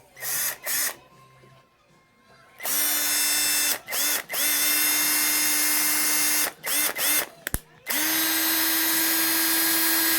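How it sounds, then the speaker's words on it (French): An electric power drill whirs in several loud bursts, starting and stopping with short pauses between runs and settling into a long steady whine at the end. "La perceuse."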